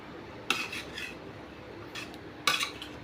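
A spoon stirs freshly cooked tomato rice in a pressure cooker, giving two distinct metallic scrapes and clinks against the pot with softer rubbing between them, close and fairly quiet.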